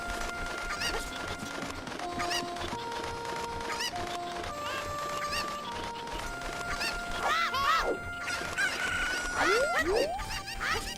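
Cucco chickens from Ocarina of Time cluck and squawk in repeated bursts over game music and background effects, with busy chirping calls toward the end.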